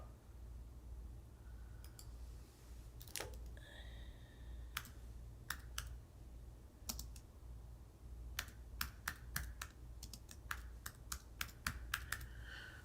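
Scattered computer keyboard keystrokes while searching fonts in Cricut Design Space, coming as isolated clicks and short clusters over a steady low hum, close by, no talking.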